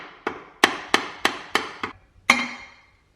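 Seven sharp hammer taps on a Mk4 Supra differential being knocked loose during a limited-slip differential install, close and crisp, mostly evenly spaced with a harder final strike, no talk.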